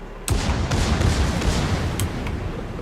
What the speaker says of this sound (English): here comes the torpedoes